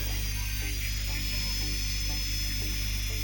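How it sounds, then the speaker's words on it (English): A micro motor grinding tool finishes a silver toe ring with a continuous high, whining buzz up close, its pitch wavering a little as it presses against the metal. "there are different type of machines and grinding tools are used here"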